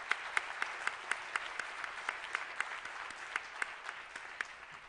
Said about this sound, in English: So an applause to them.